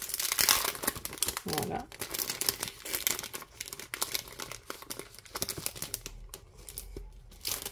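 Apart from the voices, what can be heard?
handling a paper envelope for a scrapbook travel journal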